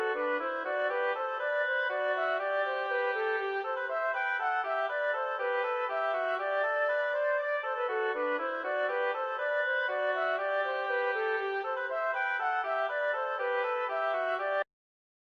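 Interweaving melodic lines play continuously in a bright, steady instrumental canon by J. S. Bach, ending abruptly.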